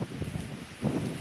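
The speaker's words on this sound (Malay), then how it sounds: "Angin juga kencang." Strong wind blowing outdoors at a landslide site along a road, a steady broadband rush with gusting swells and microphone buffeting, moderately loud and continuous with no talk.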